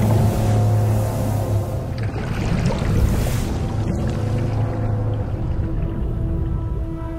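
An escape ship sailing away in the video game Fable 2: a steady, dense wash of water and hull rumble with a low droning tone underneath, continuous and fairly loud, without any voices.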